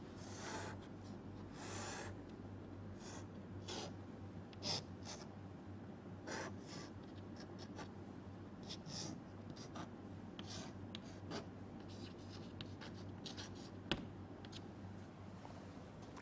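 Steady scratchy strokes of a marker or chalk drawing a diagram on a board, a continuous rasping rub with short gaps between strokes over a low constant hum.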